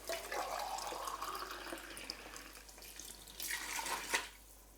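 Water runs from a kitchen tap into an emptied tomato can for a rinse, a steady close splashing stream with a brighter gush near the end.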